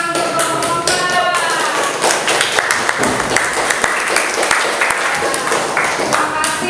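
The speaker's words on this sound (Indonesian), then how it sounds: "tepuk tangan untuk kelompok 4." A classroom of students applauds a student group after a poetry presentation, with close, uneven hand claps and distinct individual slaps over a steady patter. Some voices mix in.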